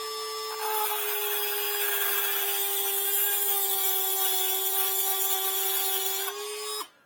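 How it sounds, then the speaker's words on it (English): A Dremel rotary tool fitted with a file grinds a notch into a car's lower control arm ball joint, a steady high whine held for about six seconds before cutting off. "I just took a Dremel tool with a file on it"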